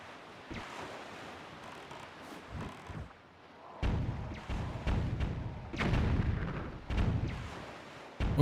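Bombs explode in The Legend of Zelda: The Wind Waker, several deep booming blasts with rumbling tails in the second half of the clip, following softer game sounds and a few lighter thuds.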